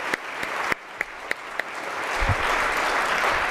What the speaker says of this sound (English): let's give him another round of applause for his message and for his story today